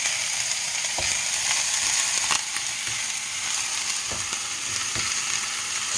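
Curry browning in a pan, sizzling steadily and loudly throughout, with several sharp clacks and scrapes as it is stirred.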